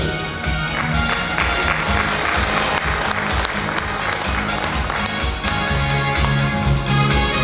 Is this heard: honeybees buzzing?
no